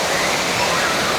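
A large water bucket tips over at a cruise ship kids' splash pool, unleashing a loud, steady rushing splash of falling water that fills the short moment close up.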